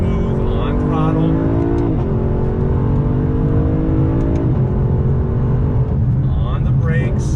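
A 2019 Lexus LC 500 luxury sports car engine revs loud and close, dropping a gear with a quick blip and then pulling hard in rising, climbing tones, while someone talks over it throughout.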